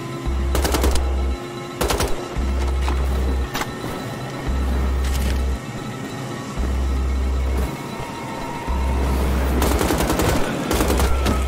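A heavy machine gun in Wolfenstein: The Old Blood fires in repeated loud bursts about a second long, separated by short pauses, each burst carrying a deep booming rumble.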